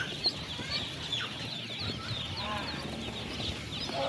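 A flock of ducks on a farm calls in a steady scatter of close quacks and chatter, with faint voices and background noise underneath.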